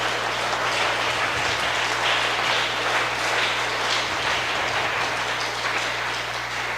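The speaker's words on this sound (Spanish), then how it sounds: "Alguien que lo pueda aplaudir en esta noche." An audience at a church service applauds steadily with dense clapping that holds at an even level throughout, alongside a low constant hum.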